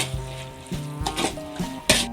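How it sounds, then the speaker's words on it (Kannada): Fenugreek leaves frying in oil for a tomato gojju, stirred with a spoon that clinks against the pan in a few sharp scrapes over a soft steady sizzle. "ಮೆಂತ್ಯ ಸೊಪ್ಪು ಹಾಕಿ ಚೆನ್ನಾಗಿ ಮಿಕ್ಸ್ ಮಾಡ್ಕೋಬೇಕು."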